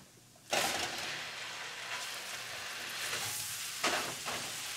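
Beef dropped into a hot pan with butter and garlic sizzles loudly at once, then keeps frying steadily, with a second surge of crackling as the meat is stirred.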